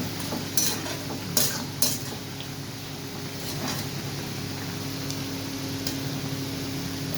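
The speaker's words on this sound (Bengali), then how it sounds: "আর এই যে মাছটা ফুটছে" Tangra fish simmering in a pan, a quiet steady bubbling sizzle with several sharp utensil clinks and scrapes early on, then a fainter continuous hiss.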